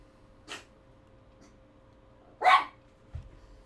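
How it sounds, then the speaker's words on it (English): A dog lets out a couple of short, sharp barks, spaced apart in a quiet indoor room with only a low hum underneath. "No, you can't bark."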